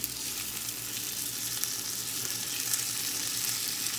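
Chicken fries in a pan as part of a keto dinner, giving a steady, close, continuous sizzle and crackle with no talking.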